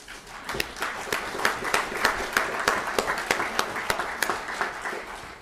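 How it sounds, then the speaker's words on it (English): Fairly faint round of applause in the Alaska Legislature chamber, a steady patter of many hands with distinct individual claps poking through for several seconds before easing off. "So how about a round of applause for you?"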